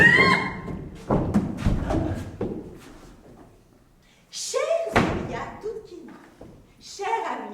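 A door bangs in a rest home during a stage play, with a couple of hard thuds early on and more knocks later, mixed with French dialogue from actors.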